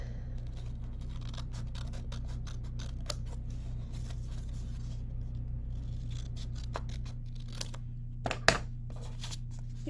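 Scissors snip paper corners for making bookmarks: a series of quiet, close cutting clicks over a steady low hum, with one louder snip near the end and no talking.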